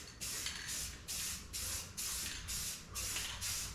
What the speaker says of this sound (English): You can see it kind of spots up as you're spraying it.